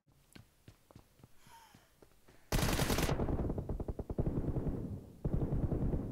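Gunfire in the mobile battle royale game PUBG Mobile: a few scattered single shots, then a loud sustained automatic burst that runs on with brief pauses.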